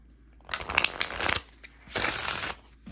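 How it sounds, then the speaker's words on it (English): New Halloween Tarot cards by US Games being shuffled by hand, two close riffling bursts separated by a short pause, crisp and papery in a quiet room. "I know it's going to shuffle nicely."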